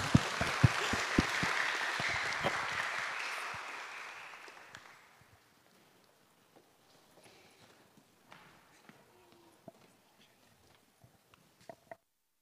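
Audience applause welcoming a speaker at a lecture, a crowd of hands clapping loudly at first, then thinning and fading over about five seconds into near silence broken by a few scattered claps and small room noises.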